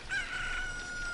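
Rooster crowing in the Zelda Ocarina of Time video game, a single sustained high crow heard alone at moderate level.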